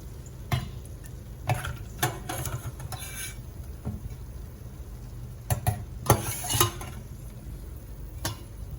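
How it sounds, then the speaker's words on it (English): Ground nuts being scooped from deep-frying oil give a soft bed of sizzling broken by irregular clinks and scraping taps of a utensil against the pan, in short clustered bursts. "since it's deep fried, it can be very oily, so make sure to drain out the oil when scooping it out"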